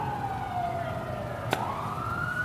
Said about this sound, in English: You heard too many sirens.